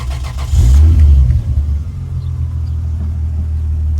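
A Jeep's engine rumbles steadily while driving just after a shop retune, with a brief louder surge early on, then a constant low drone from inside the cabin.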